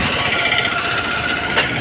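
A tractor engine runs on a village farm with a loud, steady rattling drone that holds unbroken throughout.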